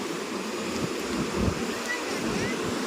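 A steady, rushing wash of fast-flowing river water at the Tungabhadra Reservoir roars continuously, close and fairly loud, with faint wind noise mixed in.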